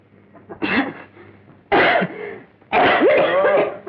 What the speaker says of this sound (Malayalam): എന്തിനു ഞാൻ ചുമച്ച് ചാകാൻ പോകുന്നേ